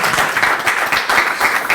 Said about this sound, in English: how about a round of applause for Julia